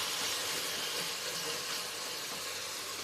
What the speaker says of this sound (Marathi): फ्राय व्हायला लागलाय कांदा चांगला।